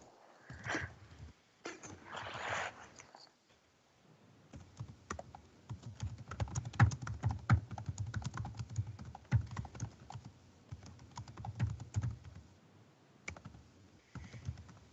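Rapid, furious typing on a computer keyboard, dense bursts of close clicks tumbling over one another, with brief pauses and some muffled handling noise early on.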